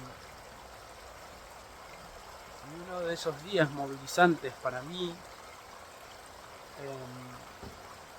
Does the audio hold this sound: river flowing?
yes